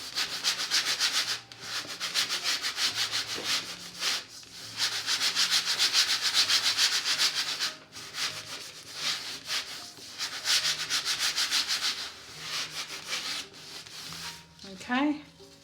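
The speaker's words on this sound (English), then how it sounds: "rub it, pick up the paint." Paper is rubbed by hand across a gel printing plate to lift paint, giving steady rhythmic scratchy rubbing in long bursts with short pauses, close up and without talk.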